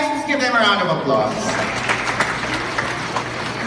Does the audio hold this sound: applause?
yes